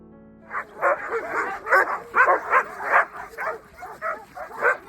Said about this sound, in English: the dogs were just going bonkers because they genuinely love their job so much